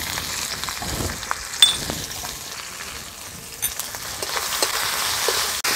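Chopped capsicum and tomato frying in a pan, a quiet continuous sizzle with occasional clinks and stirring scrapes, close and fairly soft throughout.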